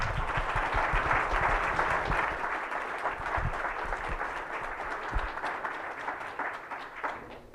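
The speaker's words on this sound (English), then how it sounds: "A round of applause for our panelists." Attendees at a county economic development breakfast in Volusia County applaud a panel. The clapping starts full and dense, then thins gradually and tapers toward the end, with no speech over it.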